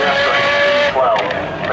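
Brief, loud, close blast from the 6.3-litre V12 of an Apollo IE hypercar with straight pipes, a high rasping tone that rises and dips as it passes at Goodwood.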